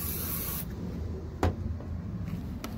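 A broadband hiss of WD-40 spray from a can onto a car headlight at the start, cut off abruptly, followed by a sharp knock and a few faint handling sounds.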